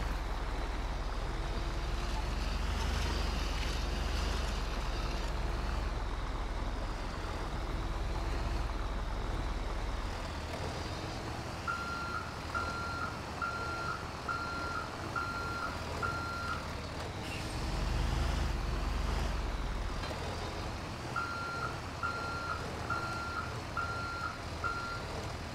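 A Peterbilt tow truck wrecker in GTA 5 reverses to park, its backup alarm beeping in steady, evenly spaced bursts over a constant low engine rumble.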